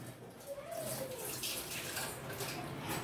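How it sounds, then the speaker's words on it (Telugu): Mushrooms are rinsed under running tap water, giving a steady, faint hiss of flowing water throughout, with a brief voice in the background. "మా మమ్మీ మష్రూమ్స్ కడిగి తేబోతుంది"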